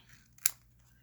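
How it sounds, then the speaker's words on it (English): Scissors snip once through paper while a bird shape is cut out for a notebook page, a single sharp, brief close click over near silence. "What did I do with my scissors?"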